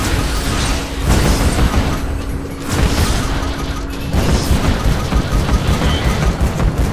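Missile explosions in the video game The Maw, heard as dense, loud, rumbling booms and crashing bursts that run almost continuously, with brief dips between waves.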